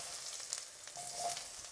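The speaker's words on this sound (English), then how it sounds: "in goes the aubergine." Diced aubergine hits a hot pan, giving a faint, continuous hissing sizzle with a few light clinks, brief and quiet with no talking.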